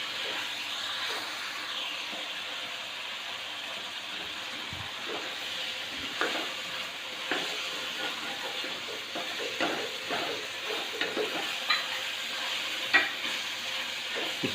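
Beef keema cooked with spices sizzles steadily in a karahi while a utensil scrapes and stirs it at intervals, producing soft clinks and scraping knocks over a constant frying hiss, with no one talking.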